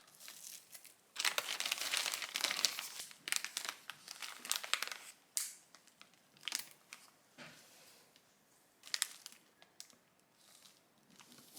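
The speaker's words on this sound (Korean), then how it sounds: "랩에 베이글을 하나씩 랩핑한 후 지퍼백에 넣어 냉동 보관을 해주세요." Plastic wrap crinkles and a zipper bag rustles as black sesame bagels are wrapped one by one for freezing. The handling comes close up in irregular bursts of crackling, with no talking.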